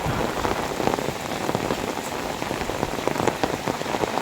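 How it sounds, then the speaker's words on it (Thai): Heavy rain pours down steadily, a dense hiss of drops drumming on surfaces with no pauses. "ฝนตกทั่วฟ้านะครับตอนนี้"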